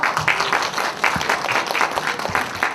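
Audience applause at a school graduation ceremony, steady dense clapping from a crowd filling the whole stretch as a presenter is welcomed to the stage.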